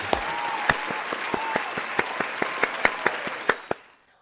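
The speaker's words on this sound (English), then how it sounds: "Everybody, let's give David a big round of applause." Applause at a celebration gala for an honoree: scattered, spaced claps from a few nearby hands standing out sharply over a softer background patter, ending abruptly.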